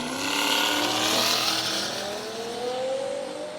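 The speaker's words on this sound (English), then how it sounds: "Oh, there goes the Miata." A Mazda Miata race car sweeps past on a racetrack at a first racing event, its engine note rising steadily then fading, loud and close with a smooth passing roar and no talk.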